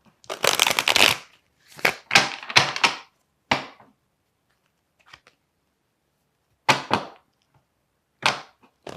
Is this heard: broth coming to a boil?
no